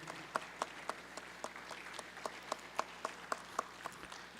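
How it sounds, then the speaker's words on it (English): Faint, scattered applause in a legislative House chamber: a thin run of light, evenly spaced handclaps, heard at a distance and fairly quiet. "Let's give another round of applause for Mr."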